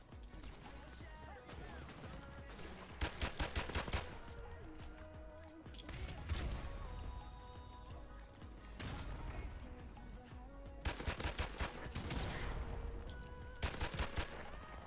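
Gunfire in Modern Warfare Remastered multiplayer: bursts of rapid automatic shots alternate with single cracks over a loud, dense game soundscape.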